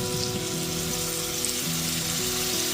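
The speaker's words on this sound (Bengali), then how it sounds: "তারপর দিয়ে দিচ্ছি একটা বড় সাইজের টমেটো বাটা।" Tomato paste sizzling in frying ginger-garlic paste in a pan, a steady close crackling sizzle, with a low electronic hum running underneath throughout.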